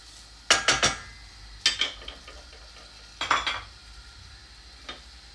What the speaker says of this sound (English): I am stirring it so that the oil will get all over the onion.